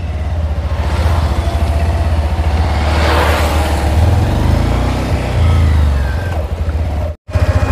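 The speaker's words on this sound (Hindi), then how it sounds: "काफ़ी अच्छा बाइक लग रहा है, और थोड़ा चला करके आते हैं आगे" A motorbike being ridden, its mid-pitched engine droning steadily and loud up close, with a few revs and a short dropout near the end; no talking.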